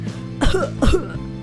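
A female video game character coughs twice in close succession, each a harsh, rasping burst with a brief throaty tail, loud and close with no other sound.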